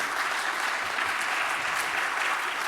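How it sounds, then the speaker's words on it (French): Sustained clapping from the audience for the panel speakers at a hospital pharmacy conference, dense and even with a faint crowd murmur beneath, holding at constant loudness. "Je vous propose vraiment de les applaudir très fort"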